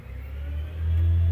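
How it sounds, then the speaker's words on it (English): A garbage truck's engine rumbles outside, a low muffled drone heard from indoors that swells louder toward the end, with no speech. "Might be hearing the trash truck outside."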